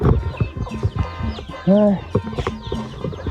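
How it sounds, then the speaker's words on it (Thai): Free-range village chickens in rural Laos cluck in short bursts under a man's chatty speech, with one louder drawn-out squawk near the middle. "ไก่เริ่มมาแล้ว"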